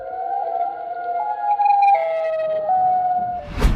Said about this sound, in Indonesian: latar suara videonya kayak campuran suara sirene sama bunyi yang lain ya